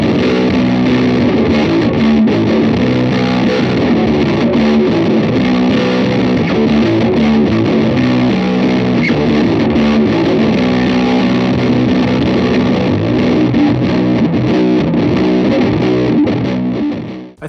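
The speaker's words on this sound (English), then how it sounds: "let's stack it with the DS1 and see what we got." Bass guitar driven through an OCD overdrive stacked with a DS1 distortion pedal, a continuous fuzzy, saturated riff played loud and alone, dense and compressed from start to end before cutting off.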